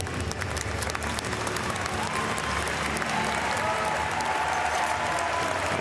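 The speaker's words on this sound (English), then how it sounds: "round of applause from this crowd" A large crowd at the Paris 2024 Paralympic powerlifting finals applauds loudly and steadily, sustained clapping filling the arena with a faint murmur of voices beneath.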